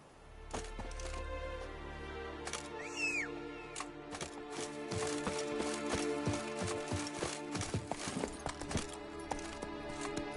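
Roach, a horse in The Witcher 3, clops along in a steady hoof rhythm that quickens into a faster gallop, moderately quiet beneath ambient game music.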